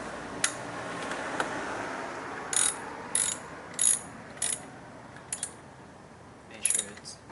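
Tightening the battery terminal on a 2003 Honda Odyssey with a ratchet, giving quiet, short bursts of clicking pawl action at irregular intervals against a low background hiss.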